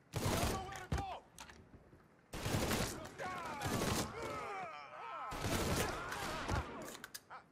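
Bursts of gunfire from shooting enemies in the Mafia III video game, rapid clusters of shots in three loud volleys separated by short pauses, with a player's voice talking between them.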